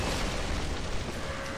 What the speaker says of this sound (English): We have explosions.